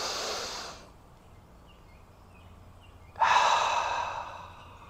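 A person breathes deeply while holding a resting squat for the low back and hips: a breathy exhale at the start, a quiet pause, then a loud, drawn-out inhale close to the mic. No talking.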